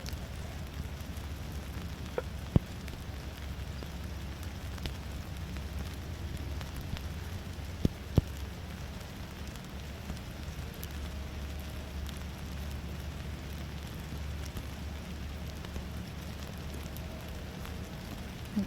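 A steady hiss of heavy driving rain fills an outdoor dressage arena in Lexington, broad and constant, with occasional sharp taps and knocks standing out close by.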